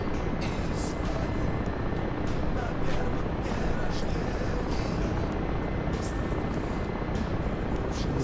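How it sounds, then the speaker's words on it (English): Helicopter in the DCS flight simulator game, a steady, dense rotor and engine drone throughout, loud and continuous, with faint high clicks and bursts layered over it. "Watch I don't clip my rotors on these trees."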